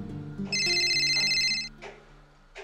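A mobile phone rings with a bright electronic ringtone, loud and close for about a second, amid low room noise before a call is answered in a rural Bangladeshi setting.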